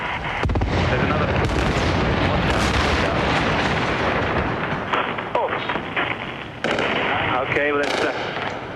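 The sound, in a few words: large bomb explosions during the bombing of Baghdad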